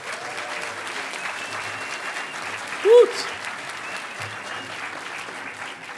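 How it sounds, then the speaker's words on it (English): Conference audience at a hacker gathering's closing ceremony applauding, a steady wash of clapping with one short whoop rising from the crowd midway. "Give them a round of applause."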